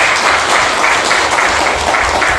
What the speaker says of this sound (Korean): 우리 찬양대장님 한 박수 한번 합시다